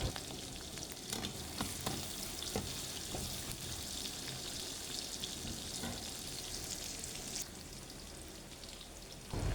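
Onions and spices with salt sizzle and crackle steadily in a hot pan while being sautéed for a Jaffna-style pumpkin curry, a busy frying hiss with stirring scrapes, no talking.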